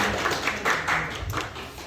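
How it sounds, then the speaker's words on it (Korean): Applause from a church youth congregation during a middle-school worship service, a steady wash of many hands clapping at close range with faint voices underneath. "박수로 함께 해주세요"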